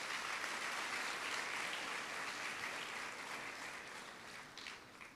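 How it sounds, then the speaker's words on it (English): Audience at a University of Venda orientation opening ceremony applauds steadily, a dense wash of clapping that holds for about five seconds and slowly thins toward the end. "just give it a round of applause for choosing this University of Venda"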